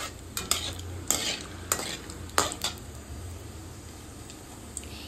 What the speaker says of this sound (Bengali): এবার এর মধ্যে আমি কিছুটা পরিমাণে গোটা জিরা আর একটু দারচিনি ফোড়ন দিয়ে দিলাম।